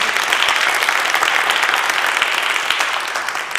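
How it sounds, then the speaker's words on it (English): Audience applause for Peter Mercer-Taylor at a folk singing event, a dense, steady wash of many hands clapping at full strength for the whole stretch, easing only slightly near the end. "one more round of applause for Peter Mercer-Taylor"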